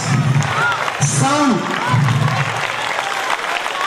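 Applause from pupils and parents at a school Sankranti festival celebration, a continuous clapping crowd close by with a voice speaking over it throughout.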